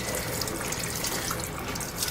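Water streams and splashes as a wet wool diaper soaker is wrung out by hand over a sink, a steady close trickling and dripping that runs the whole moment without any voices.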